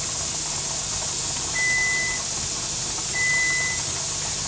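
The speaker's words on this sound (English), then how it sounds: "I hope you can hear me over my oven and my canner" Steady loud steam hiss from a canner with a running oven in a home kitchen, continuous broadband rush, with two brief high electronic beeps partway through, close by and without talk.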